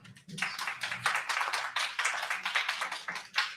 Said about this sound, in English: If we can have a round of applause for Arthur.